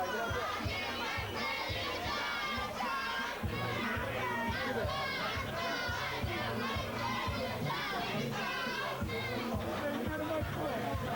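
A pro boxing crowd celebrating after a bout win, a dense, loud, continuous roar of cheering and shouting voices with steady thumping beneath, sustained throughout.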